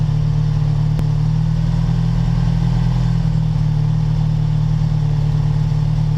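A cafe racer motorcycle engine running on its own, a loud steady drone that holds close and constant, with a faint click near the start and no talking.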